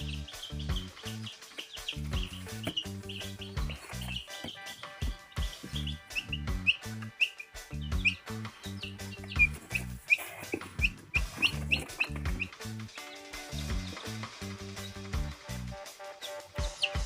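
Tiny white Kelso chicks, three or four of them, peep in rapid, high, repeated chirps close by, alongside steady rhythmic music.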